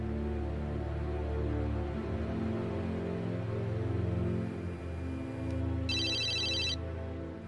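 A telephone rings in a quiet room at night, heard as one short electronic ringtone burst near the end over a steady low background hum.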